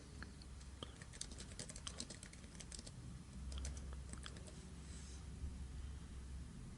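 Typing on a computer keyboard while filling in a WordPress install form: faint, quick, irregular bursts of light key clicks over a quiet room hiss.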